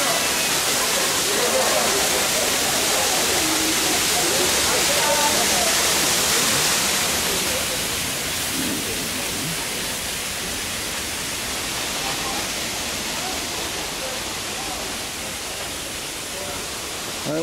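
Rushing water at Kintampo Waterfalls in Ghana fills the air as a loud, continuous broadband roar, close and unbroken throughout, slightly easing partway through.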